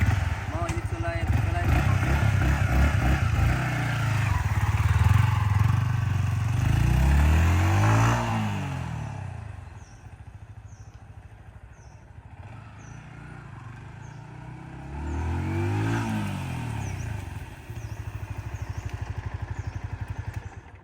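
A Yamaha R15M motorcycle ridden hard, its engine climbing through two strong rising revs with a gear-change clatter between them, close and loud over steady road and wind rumble.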